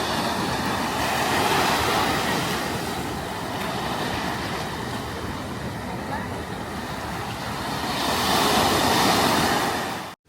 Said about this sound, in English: The waves are massive.